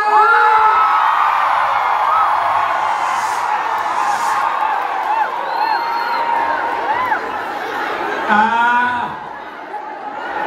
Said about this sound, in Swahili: wapi makofi wapi kelele ya Geda Igawa